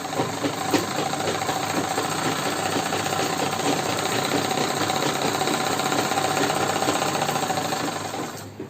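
A sewing machine stitching a salwar seam, a loud, steady mechanical whir running almost without a break before trailing off at the end.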